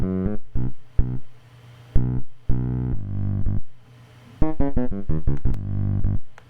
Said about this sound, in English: added chorus to widen it a bit